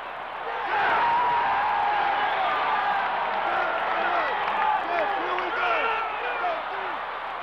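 Syracuse fans cheering at a 1987 NCAA Final Four basketball game, a steady loud roar of crowd noise with scattered whoops and whistles filling the arena throughout.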